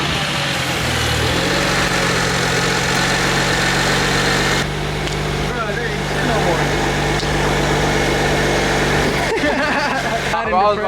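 A BMW 335i engine idles steadily with a persistent mechanical ticking, close and fairly loud, the tone shifting partway through as something changes around it.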